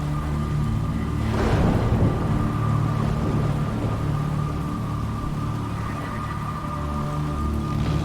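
Thunderstorm with steady rain in the Jenny LeClue video game, a boat scene on water: a broad rumble of thunder swells near the start over continuous rain hiss and a low ambient hum, with no talk.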